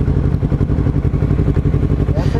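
Motorcycle engines rumble close by with a steady mid-pitched drone, traffic clattering in the background.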